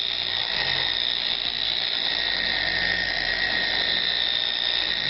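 A random orbit polisher runs on a Lexus hood while wax is applied, giving a loud, continuous high-pitched whirring whine that holds steady without pause from start to finish.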